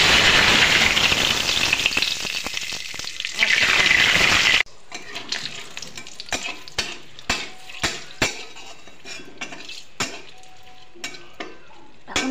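Cumin seeds sizzle in hot oil in a kadai, first as a loud, dense frying hiss for a few seconds, then settling into quieter crackles with scattered sharp pops and clinks of a utensil against the pan.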